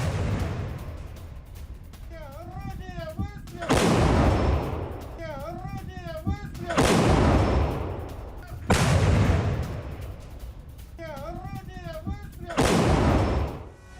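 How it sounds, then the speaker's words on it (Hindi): Russian artillery shelling a Ukrainian post in Avdiivka: four heavy booming blasts land a few seconds apart, each with a long rumbling tail, while a voice talks in the quieter gaps between them. "अवदिव्का में रूसी आर्टिलरी का बड़ा एक्शन देखने को मिला। रूस ने यूक्रेन के पोस्ट पर बम बरसाए हैं।"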